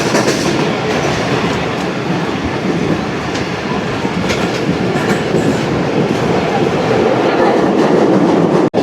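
A Pakistani passenger train of about twenty coaches runs between Chanesar Halt and Baloch Colony in Karachi, its wheels clattering and rumbling loudly and continuously close by.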